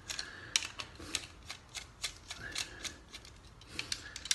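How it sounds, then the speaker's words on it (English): Screws are undone on a twin click socket wired in PVC single cable, a quiet series of close, scattered ticks and scratchy metallic clicks with small scraping handling sounds and no talk. "So I take the socket and just untwist,"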